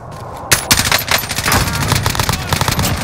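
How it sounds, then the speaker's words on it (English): Air-strike gunfire in the video game Warzone hits after a quiet half-second lead-in: a loud, rapid burst of shots and impacts that keeps hammering for the rest of the clip. "Strike inbound."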